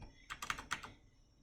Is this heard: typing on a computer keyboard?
yes